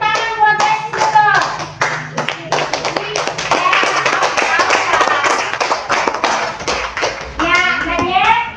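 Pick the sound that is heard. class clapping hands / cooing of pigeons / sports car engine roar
class clapping hands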